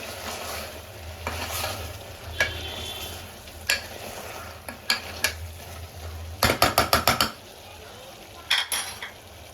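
Mutton curry sizzles in a pan with mint and coriander added while a spoon scrapes and stirs it, giving a soft steady frying hiss broken by quick clustered metallic clacks of utensil on pan.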